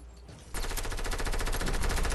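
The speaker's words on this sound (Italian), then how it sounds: "Gente che si spara ancora" Rapid automatic gunfire in the battle royale video game Fortnite, starting abruptly after a quiet moment and continuing as a dense, loud burst of evenly spaced shots for the rest of the clip.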